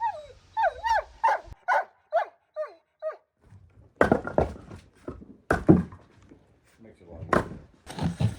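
A dog shut in a shaded dog run at a remote Alaska cabin lets out a quick series of high whimpering yips and short barks, followed by heavy wooden thuds and clattering, as if wood is being moved nearby.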